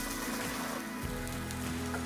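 Onions sizzling steadily in a pan for an Indian-Chinese bacon chilli stir fry, a continuous crackling hiss close by with no talk over it.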